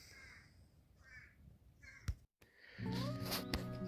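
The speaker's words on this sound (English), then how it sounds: "there's a bird that's not letting me sleep in anymore" Several harsh bird calls ring out in short bursts at a campsite in Henry Coe, with a louder burst of bird calling near the end over a steady outdoor background.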